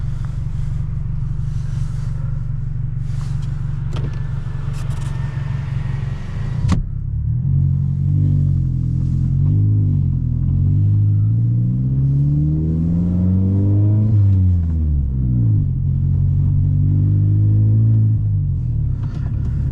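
A 2021 Toyota Corolla SE manual hatchback drives along with its engine and aftermarket exhaust droning loudly and close, the pitch rising and falling through gear changes and revs.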